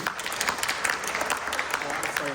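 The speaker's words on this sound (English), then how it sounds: "We can give our presenter a round of applause" An audience at a Los Angeles City Charter Reform Commission meeting claps for a presenter, a steady, dense patter of many hands filling the room throughout.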